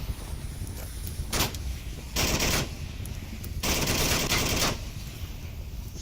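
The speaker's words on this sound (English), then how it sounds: "Sinkas is firing at Nightmare Luna." Automatic rifle fire in the Onward VR shooter, with several loud sustained bursts of rapid shots separated by brief pauses and a couple of single sharp cracks, with no talk.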